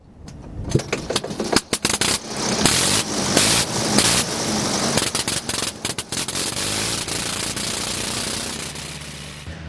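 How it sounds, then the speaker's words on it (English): A World War I airplane's rotary engine, spinning together with its propeller, sputters and pops to life in loud irregular bursts, then settles into a steady roar close by. "The whole engine spins with the propeller."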